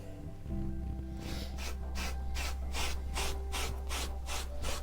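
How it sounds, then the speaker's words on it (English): Wire wool rubbed back and forth over a carved wooden guitar body, giving steady rhythmic scratchy strokes up close over a low constant hum, with no talking. "the trusty wire wool comes out, because this will just fold into all of the corners and all the bits that you could possibly feel. We can just rub it over with that."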